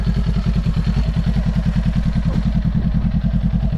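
A motorcycle engine chugs in a fast, even pulse at moderate volume as a beginner rider moves off and rides along.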